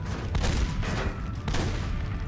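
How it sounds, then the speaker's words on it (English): Rapid gunfire in The Godfather video game, a dense continuous burst of shots with louder cracks standing out, loud and close throughout. "Who the fuck is shooting at me?"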